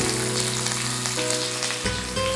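Onion, ginger and curry leaves fry in a pan with a steady, close sizzle that holds throughout, with a faint tonal hum underneath and no talking.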